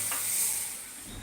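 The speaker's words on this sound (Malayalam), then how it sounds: "നന്നായിട്ട് തിളച്ച് വരുന്നുണ്ട്" A short, close hiss of milk-powder coffee with ground coffee coming to a boil in a pan, a bubbling steamy wash that fades slightly toward the end.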